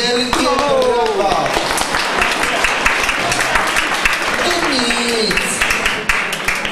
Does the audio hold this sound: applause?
yes